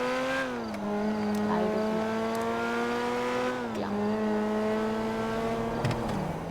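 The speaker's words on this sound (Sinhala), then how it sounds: "වාහනේ හොඳ වාහනයක් ඉතින් යනවා වෙඩිල්ල වගේ." A fast car in GTA 5 drives flat out, its engine droning loud and close with rising revs, dropping pitch at each gear shift, and a faint tire squeal underneath.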